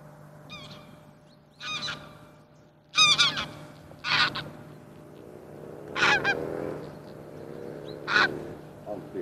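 Geese honk in a series of loud calls spaced a second or two apart, over a faint steady hum, during a goose hunt.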